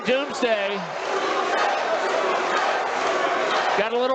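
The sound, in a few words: fight crowd shouting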